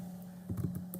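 Search terms typed on a computer keyboard into a library database search box, a short quick run of soft key taps over a steady background hum, with no talk.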